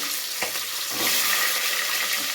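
Whole small onions sizzling in hot oil in a pan while cooking a spicy vatha kuzhambu, giving a steady, fairly loud frying hiss with a few soft stirring bumps and no talk.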